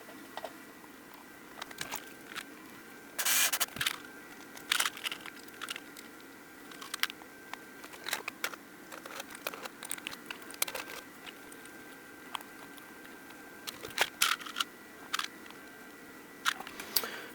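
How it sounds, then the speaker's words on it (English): Screws go back into a Monitor Audio MASS W200 subwoofer during a repair: scattered small clicks, taps and rattles of metal and tools over a quiet background, irregular and close, with no speech. "let's get some screws back in here"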